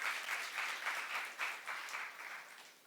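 A church congregation applauds together, giving a short burst of faint, rhythmic clapping that fades slightly toward the end.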